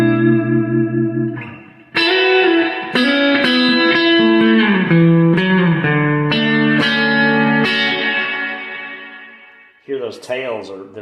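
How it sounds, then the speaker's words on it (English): Distorted electric guitar notes ring out through a Quilter Aviator Cub amp, sustained chords with a long reverb wash trailing off, then a few more picked notes. "Hear those tails, they're a pretty long tail on that reverb."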